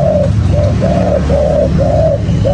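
A spotted dove coos in a steady repeated rhythm, six soft hooting calls close by, with a low background hum.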